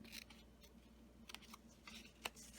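Scissors cut a tab into a handmade Christmas card, making a few quiet, crisp snips spaced out over a faint background, with no speech.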